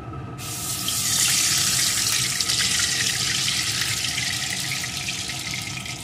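A cup of water poured into frying panch phoron spices for mango chutney gives a loud, steady rush and sizzle that swells after a sharp start and carries on without a break.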